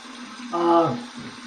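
A tap runs in a steady soft hiss for a cold post-shave rinse, with a brief burst of a voice partway through.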